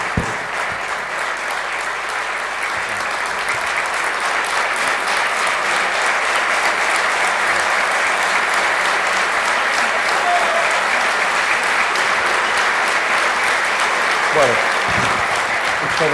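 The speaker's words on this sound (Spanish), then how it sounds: "Muchas gracias por el aplauso" An audience at a basketball talk gives a long, loud, sustained round of clapping that fills the room evenly with dense hand claps.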